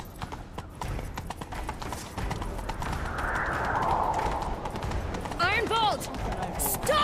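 Horse hooves gallop in a steady, rapid clip-clop during a chase in The Witcher 3 video game. Voices are heard over the hoofbeats, and a horse whinnies near the end.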